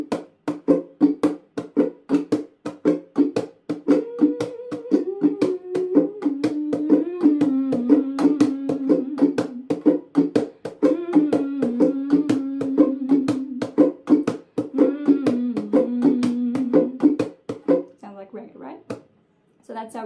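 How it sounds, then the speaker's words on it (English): Steady strumming on a ukulele in a bouncy reggae pattern, short muted chops between strokes, playing alone for about seventeen seconds before stopping. "That's our reggae strum. So we go down, up, tap, tap, down, up, tap, tap."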